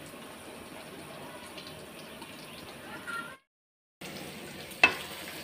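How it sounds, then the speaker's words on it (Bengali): Onions sizzle and crackle in a hot pan, the frying cut off briefly before resuming with a sharp clink of a utensil. "তো হয়ে গেছে আমার পেঁয়াজ ভাজা, আর ভাজবো না।"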